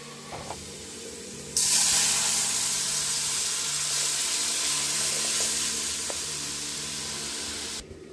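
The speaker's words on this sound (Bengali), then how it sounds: "সর্ষের তেল গরম হয়েছে, শুকনো লঙ্কা, কালো জিরে আর পেঁয়াজ ফোড়ন দিয়ে মুসুর ডাল হবে" Dried red chillies, nigella seeds and onion hit hot mustard oil for a tempering, bursting into a loud, steady broadband sizzle that holds for about six seconds before cutting off abruptly. Faint kitchen noises come before it, and nobody speaks.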